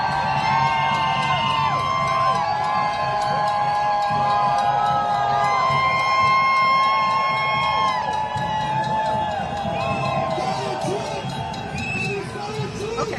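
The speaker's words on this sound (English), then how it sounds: "Show this crowd right now going absolutely wild." A large protest crowd cheers and whoops wildly and continuously, a dense roar of voices with shouts rising over it, loud and close throughout.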